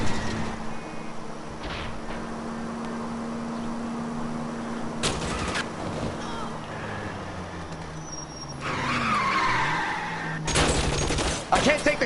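Gunfire cracks out in L.A. Noire during a car chase while shots are aimed at a fleeing vehicle's tires, a few loud bursts over steady engine noise, with voices talking in between.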